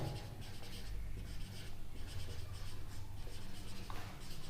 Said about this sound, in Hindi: चलो भाई, रदरफोर्ड की मॉडल की कमी को हम लिख देते हैं